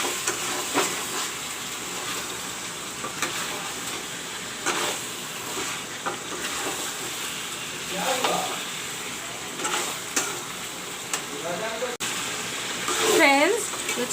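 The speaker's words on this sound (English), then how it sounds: "Friends, you can see the chicken frying along with the masala." Chicken frying with masala in a pan for Bengali chicken curry, a steady low sizzle and hiss with occasional stirring scrapes, fairly quiet and continuous.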